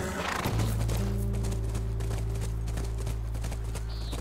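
A horse in The Last of Us Remastered video game whinnies and its hooves clip-clop over a low, steady musical drone, with a brief high tone near the end.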